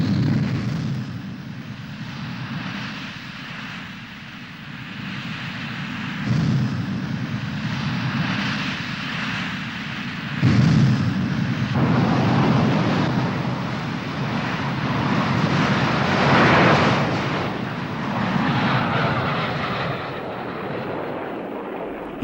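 Soviet jet fighter aircraft flying in formation, a loud sustained roaring engine rumble that swells and surges, with a few heavy bursts partway through, alone with no voices.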